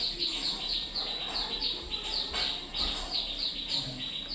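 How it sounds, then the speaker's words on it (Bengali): Birds chirp and tweet in repeated short bursts from outside, bright and fairly clear over a faint background hum. "তার সাথে বাইরে কি সুন্দর পাখিগুলো ডাকছে"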